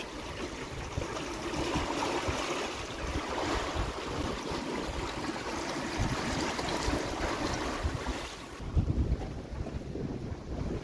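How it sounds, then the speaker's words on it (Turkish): Steady wind of about 12 knots roars across an open sailing boat in the western Indian Ocean, with broad rushing gusts and a faint wash of waves beneath, buffeting the microphone continuously and easing briefly near the end. "12 nat rüzgarımız var."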